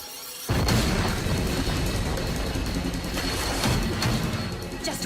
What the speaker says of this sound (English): all I've got to do is apply the pressure of an explosion, and they'll detonate for sure